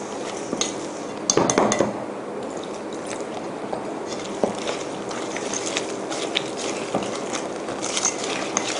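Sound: stirring batter with cold water for fried bananas

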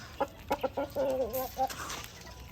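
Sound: chicks and chickens chirping and clucking

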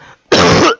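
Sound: cough

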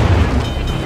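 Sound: naval artillery fire in a warship video game

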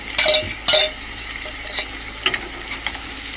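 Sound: dried prawns added to pan for gongura curry

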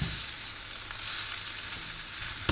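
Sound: mutton fried rice sizzling while stirred in pan

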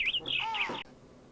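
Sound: bird chirping

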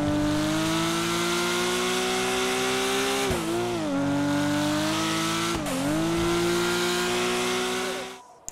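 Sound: Porsche 911 car driving, from the video game GTA 5

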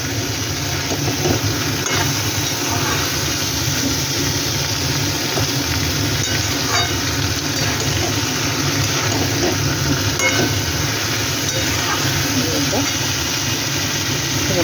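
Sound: frying ground mustard, poppy seed and peanut paste with drumsticks

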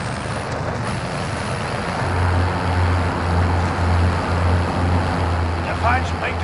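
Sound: vehicle driving in Call of Duty Warzone video game

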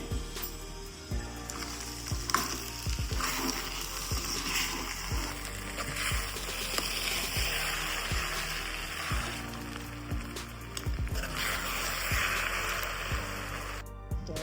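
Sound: stirring sabudana khichdi with lemon juice in a pan

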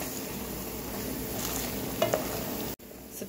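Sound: stirring onions with salt and black pepper in a pan

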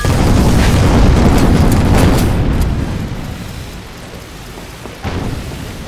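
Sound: main gun firing in video game Guns of Icarus

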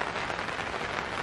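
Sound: rain falling on a tent

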